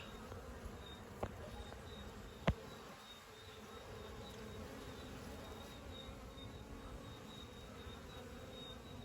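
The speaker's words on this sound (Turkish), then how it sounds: "7 derece olmasına rağmen arılarımız çok güzel çalışıyorlar." A steady, dense buzz of many honeybees swarming around a hive in 7°C weather amid a strong pollen flow, continuous throughout, with a couple of brief clicks early on and no talking.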